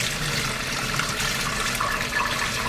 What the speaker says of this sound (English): we're going to kind of try to strain the broth a little bit, slowly, into another pot